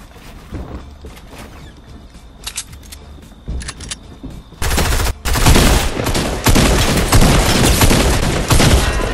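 Fortnite gunfire, starting with a few scattered, sharp shots and building into dense, loud bursts of rapid firing that dominate the second half, with no one speaking.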